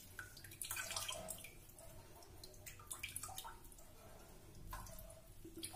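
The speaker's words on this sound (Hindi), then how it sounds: "ऐसे दबा दबा के इसका पानी निकाल लेंगे।" Water drips and trickles from homemade paneer being squeezed and pressed by hand, with quiet irregular splashes and runs of dripping close by.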